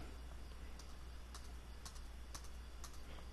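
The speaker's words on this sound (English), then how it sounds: "You can hear my clicking." Computer clicks during a Roblox game: a series of faint, sharp clicks spaced about half a second apart over a low, steady background hum.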